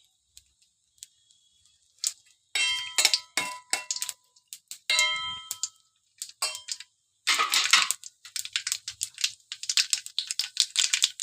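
Mustard seeds in plenty of hot oil with fenugreek powder splutter in a pan, giving close, irregular bursts of sharp crackling pops separated by short quiet gaps.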